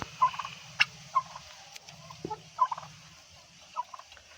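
A turkey kept on a rooftop farm with chickens and pigeons gobbles in short bursts at irregular intervals, fairly faint, against a quiet background with a low rumbling hum.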